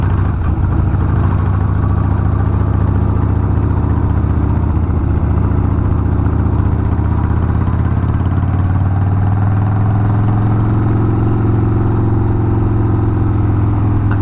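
The air-cooled engine of a 1994 Harley-Davidson Sportster 1200 rumbles close and loud on a ride. A steady low drone swells and shifts pitch partway through as the bike changes speed, with no talk over it.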